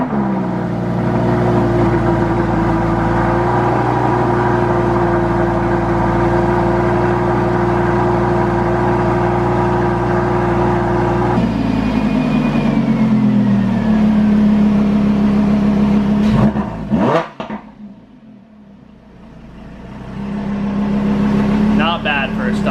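Stock exhaust on a Lamborghini Huracan revs loudly and steadily, with engine pitch shifting partway through, then a sharp drop and a brief gap before the engine note returns; voices talk over parts of it.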